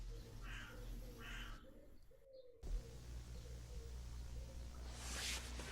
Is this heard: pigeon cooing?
yes